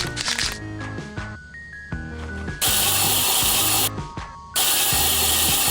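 A spray paint can in Lethal Company VR, shaken and then sprayed in loud, sustained bursts of broadband hiss separated by short pauses, with a rattling, tool-like clatter in between.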